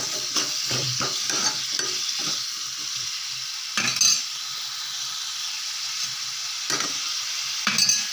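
Green chillies and punarnava leaves crackle and sizzle in a pan while a spoon scrapes and clinks through them, with busy stirring at first and then a steadier hiss punctuated by occasional scrapes.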